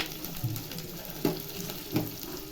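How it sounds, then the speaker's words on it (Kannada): Onions frying in oil for a chicken chops dish, a soft steady sizzle with a few louder clinks and stirring knocks at close range, no voices. "ಫಸ್ಟ್ ಇವಾಗ ಈರುಳ್ಳಿ ಹಾಕ್ತಿದ್ದೀನಿ. ಸ್ವಲ್ಪ ಫ್ರೈ ಮಾಡ್ಕೊಳ್ಳಿ ಎಣ್ಣೆಯಲ್ಲಿ."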